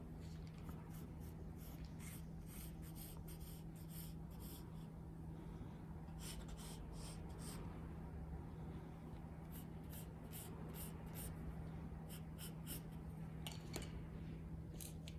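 Faint, close pencil strokes hatch and crosshatch across paper in short bursts and pauses against a quiet background hum.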